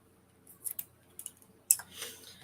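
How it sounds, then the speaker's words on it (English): Scissors snipping a small angled cut in paper craft: a few quiet, crisp separate snips with short gaps between them, close and clear in an otherwise silent room. "So I'm just going to snip that off there, just like so."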